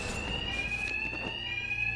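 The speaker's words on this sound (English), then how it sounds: "these thugs can't hear a thing over the alarms" A blaring alarm in the video game Batman: Arkham Knight, a loud steady electronic tone sounding continuously over muffled background noise.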